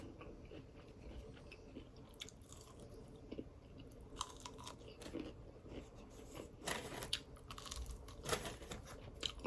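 Close, quiet chewing of crispy fried chicken wings, with repeated crunches and bites at an irregular rhythm, growing louder toward the end.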